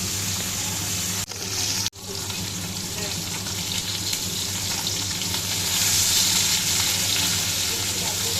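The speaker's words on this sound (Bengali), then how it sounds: "মাছ ধোয়ার পর হলুদ লবণ মাখিয়ে মাছগুলো একে একে ভেজে নিচ্ছি।" Boroli fish coated in turmeric and salt fry in hot oil with a dense, steady sizzle, broken by two brief cuts early on and swelling slightly louder toward the end.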